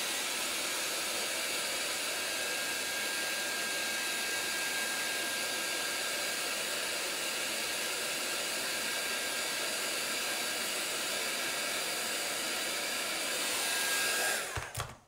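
A hair dryer runs nonstop to dry a chalk-painted Halloween decoration. Its airy whine and hiss hold steady and close for about fourteen seconds before it cuts off.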